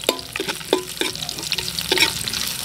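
Garlic, ginger and onion sauté in a pan, with a steady sizzle broken by repeated clattering strokes of stirring, close and fairly loud, no talk.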